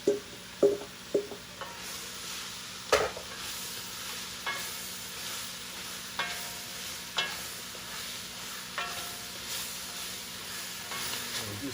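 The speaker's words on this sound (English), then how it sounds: "We're going to go ahead and add the rest of the vegetables in." Vegetables for japchae hiss and crackle in a smoking-hot cast iron pan, a steady sizzle broken by repeated sharp clinks and scrapes of stirring, close and without voices.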